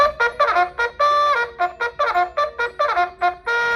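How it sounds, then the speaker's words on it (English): A classroom cleanup bell rings in a quick rhythmic series of bright, clear chiming strikes, close and alone, about a dozen tones in under four seconds. "you will get to ring the cleanup bell, which sounds like this."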